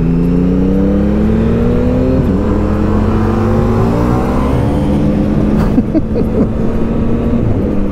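Indian FTR1200 motorcycle with its stock exhaust accelerating hard and pulling away, a steady engine drone with rising harmonic sweeps as revs climb, fairly loud and continuous with no voices.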